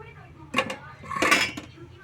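A spoon scrapes and clinks against a metal pot while water is stirred into drumstick curry gravy, two short bursts of clatter with a faint voice underneath.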